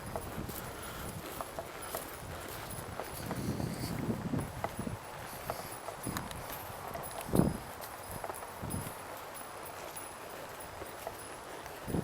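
An old horse's hooves clip-clop steadily on a highway pavement, close by. The trotting runs on under light wind noise the whole time.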